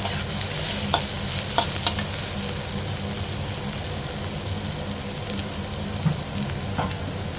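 Continuous sizzling of bitter gourd frying in a pan, with occasional clinks and scrapes of stirring, close and steady, no talking.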